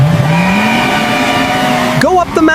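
Race cars pull away at the start of a race, with one engine note climbing steadily in pitch for about two seconds before breaking into a sharp, squealing burst near the end.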